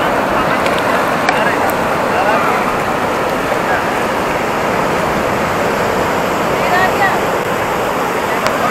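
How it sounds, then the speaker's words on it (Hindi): Sea waves break steadily on Colva Beach in Goa, a loud continuous wash of surf close by with a constant broadband roar and possible light rain. "ये पूरी वेव्स आ रही है यहाँ पर।"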